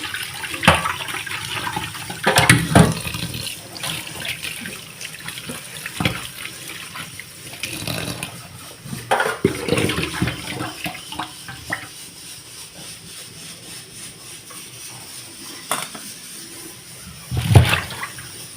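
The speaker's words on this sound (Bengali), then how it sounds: "তো দেখো ঠান্ডা জল দিয়ে নিচ্ছি আমাকে" Cold water running and splashing from a tap over chopped chowmein ingredients in a kitchen, a continuous close wash broken by a few louder splashes, with no voices.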